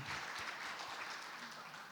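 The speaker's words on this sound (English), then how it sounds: "Another round of applause for Helen." An audience at a project launch event claps for a speaker, a dense, steady wash of applause heard alone at moderate distance and slowly tapering.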